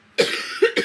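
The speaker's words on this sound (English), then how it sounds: "Just having a coughing fit." A woman coughs in a short fit, with three harsh bursts close up and the last two coming quickly together.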